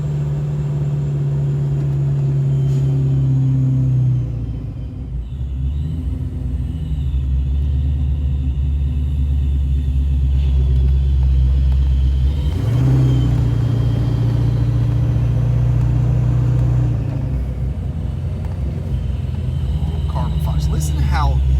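Supercharged engine of a 1973 Ford Mustang Mach 1 holds a loud, steady low rumble throughout, with a brief dip and a swell of revving partway through, close and continuous.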